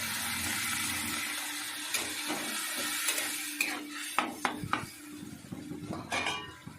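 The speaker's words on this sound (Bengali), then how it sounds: "একটু জল দিয়ে মশলাটা কষতে দেবো" A spice paste of masala cooks in a pan with a little water added, giving a soft continuous sizzle punctuated by the scrapes and clinks of a spoon stirring against the metal pan.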